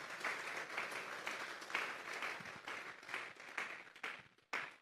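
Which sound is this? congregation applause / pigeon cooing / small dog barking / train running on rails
congregation applause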